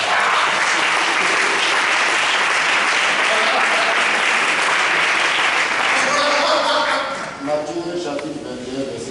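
A church congregation bursts into loud, sustained clapping and cheering in praise of the Lord, dense and continuous before thinning out as voices rise near the end.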